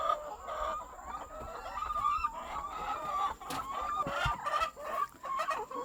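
Laying hens cluck and murmur in a coop at a semi-intensive layer farm, a busy chorus of repeated clucks and short calls at moderate distance, with no talk.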